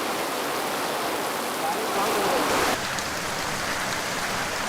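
Steady, heavy rain pours down in a dense hiss, with a slightly louder surge partway through.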